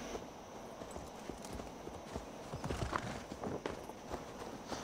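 Horse hooves clip-clop steadily in Assassin's Creed Valhalla, moderately close, with faint game ambience and occasional light knocks around the footfalls.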